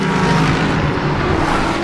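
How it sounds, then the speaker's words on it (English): A Lamborghini Huracán GT3 Evo Le Mans race car drives past with a loud, steady engine roar. The sound holds at an even level throughout and comes from close by. "This is a Lamborghini Huracán GT3 Evo, an era-defining Le Mans racer that goes over 200 miles per hour"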